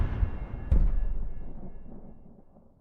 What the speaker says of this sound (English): the thunder sound when you're in this menu